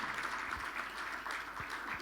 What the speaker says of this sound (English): So with a round of applause, please welcome